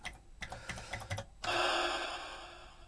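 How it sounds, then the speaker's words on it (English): Quick keystrokes tap on a computer keyboard as commands are typed, a scattered run of close, light clicks, followed by a sudden steady burst of hissing noise that slowly fades. "I can have some fun just typing in those commands just for now."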